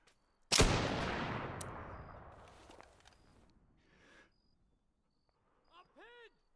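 Video game gunfire in a heavily modded tactical shooter: one loud, close shot with a long decaying tail, then scattered fainter pops and a few chirping electronic tones.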